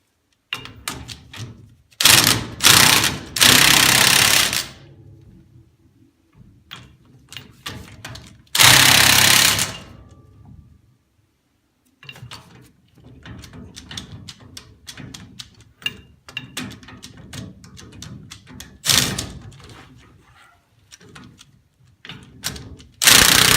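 Nut being tightened onto a primary bracket with a ratcheting tool: repeated bursts of close, loud mechanical clicking and clatter, broken by short pauses and a few thuds, with no talking.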